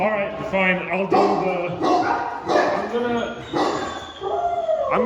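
At an animal shelter, several dogs bark, yelp and whine in repeated loud bursts close to the listener, with a female black Alaskan dog among them and someone speaking amid the din.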